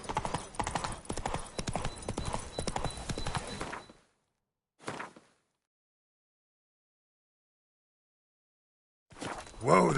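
Horse hooves clip-clop steadily in the game Witcher 3 for several seconds, then fall silent, with a single short burst of hoofbeats in the middle and a louder return at the end alongside a whinny.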